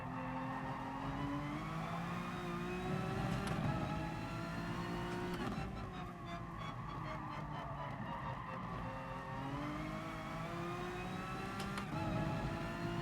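Nissan GT-R race car in the GT Sport video game roaring steadily down a straight, its engine note climbing through the gears with brief shift dips, loud and continuous.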